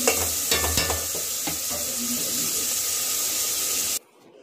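Onions and green chillies frying in a pot for a country-chicken curry, a steady loud sizzle with occasional stirring clinks against the pot before the sound cuts off abruptly.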